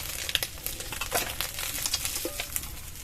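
Fish frying in mustard oil gives off a dense, continuous crackling sizzle, close and fairly loud, with scattered pops and light spatter throughout.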